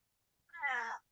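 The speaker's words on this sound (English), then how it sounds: "My kitty cat wants to help." A pet cat gives one short, clear meow lasting about half a second, close to the microphone, in an otherwise quiet room.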